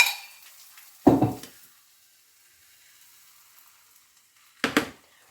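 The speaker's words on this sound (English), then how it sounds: "I'm going to put batter on that before it gets too hot." Pancake batter poured into a hot pan for Shrove Tuesday pancakes gives two short, close sizzling bursts a few seconds apart, each fading quickly into near silence.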